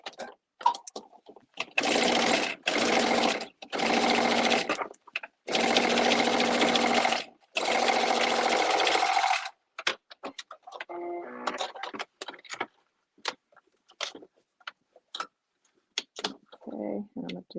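Sewing machine top stitching seams, running in several sustained loud bursts separated by short pauses, followed by scattered clicks, handling noises and brief quieter runs.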